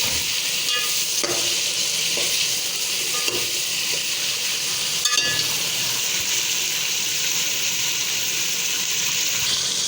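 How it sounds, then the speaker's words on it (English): Chana dal and meat sauté with browned onion in a pan, a steady sizzle and frying hiss running throughout with occasional stirring scrapes, close and continuous with no talking. "So now we have to saute it for this with this brown onion for 5 minutes."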